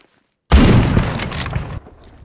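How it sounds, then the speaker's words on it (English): A grenade detonates in the Phantom Forces shooter game: a sudden loud blast with a heavy low boom that rolls on for about a second before cutting off into faint residual noise. "Did you just throw a grenade?"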